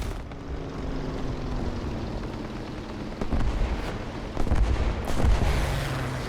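Aircraft engines roar steadily in the War Thunder combat flight game, a dense loud drone with a faint engine tone, swelling in louder surges near the end as another plane closes in.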